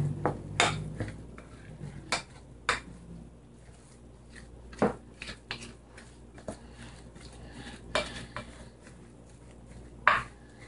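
Seasoned ground meat for Jamaican jerk burgers is mixed in a bowl, with irregular clinks and taps of utensil against dish over soft squelching, fairly quiet and close, no speech.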